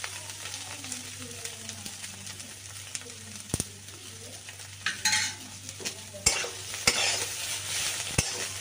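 Cashews and raisins frying with cauliflower curry in a pan, a soft sizzle under repeated scraping and clinking strokes of a stirring spoon, growing louder toward the end.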